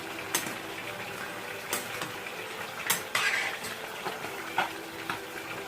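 Salted spinach is stirred in a pot, with a soft wet simmer broken by several clear scrapes and knocks of a spoon against the pot, with no voices.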